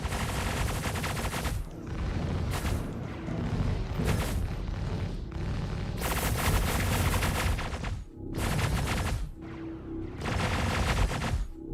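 Spaceship cannons fire in the space combat game Star Citizen as loud, dense bursts of gunfire and booming impacts, nearly continuous with short gaps around the two- and eight-second marks.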